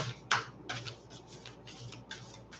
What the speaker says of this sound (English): Two more shuffles, and then if none of the cards fall, then I will pick one.